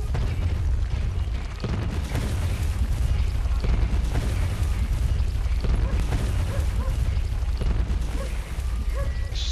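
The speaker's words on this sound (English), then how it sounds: "All right, so explosion happens." Gunfire and explosions rumble through a Wild West shooter game, with heavy booms and sharp cracks repeating over a dense, continuous roar; a voice speaks briefly at times.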